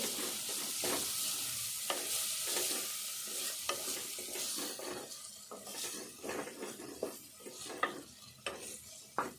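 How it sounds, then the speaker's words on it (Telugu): Moong dal sizzling in an oil tempering in a pan, with a steady fry hiss under repeated scraping stirs and light utensil clinks against the pan, fairly close and without talk. "కొద్దిసేపు అయితే తాలింపులో వేపుదాం."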